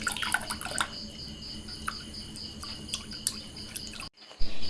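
Homemade grape wine dripping through a gathered cloth strainer, a steady patter of small drops with a faint background hiss, close by and without speech.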